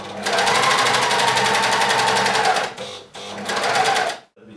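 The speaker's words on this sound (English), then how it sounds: "So it's this curved line here that we're going to be closing up all the way up until the side point" A sewing machine runs steadily at close range, stitching a trouser pocket bag closed along a curved seam with a fast, even mechanical chatter, pausing briefly before a final short run and then stopping.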